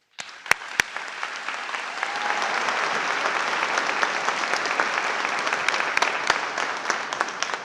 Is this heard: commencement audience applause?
yes